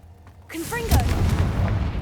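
Confringo fire spell blasting in Hogwarts Legacy: a short rising magical whine gives way to a loud, booming fiery explosion that rumbles on to the end.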